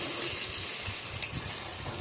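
Chopped tomato frying with softened onions in a pan for a Bengali tangra fish curry gives a soft, steady hiss, with one sharp click about halfway through.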